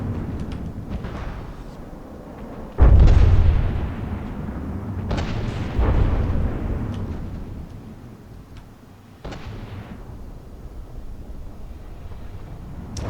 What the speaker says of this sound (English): Whoa, a lot of torpedo hits there.